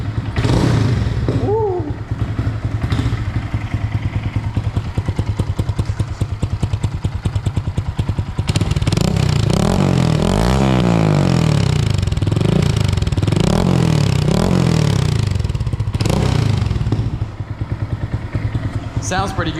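A 2022 Honda Grom fitted with a cheap aftermarket exhaust, baffle in, cranks and fires up into a loud, close, steady idle, then swells with several rising-and-falling revs; a person exclaims briefly.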